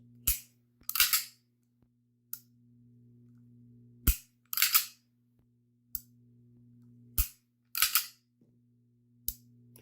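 Sharp metallic trigger reset clicks from an FN Hi-Power pistol come in quick pairs and small clusters, repeating every couple of seconds against a faint low hum, close and fairly quiet.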